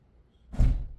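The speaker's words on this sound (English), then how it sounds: "Push in on the doors." Wooden mudroom doors are pushed shut during a building job, a single soft thud near the end after a quiet start, close by.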